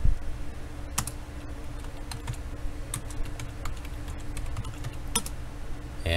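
Steady typing on a vintage PC keyboard while connecting to a telnet BBS through a modem, a close, continuous run of clicky keystrokes with a few sharper key hits and no speech.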